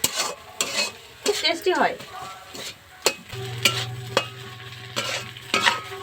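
Boiled greens frying in a pan with repeated clinks and scrapes of a metal spatula against the pot over a low sizzle. A steady hum joins partway through, and someone briefly speaks.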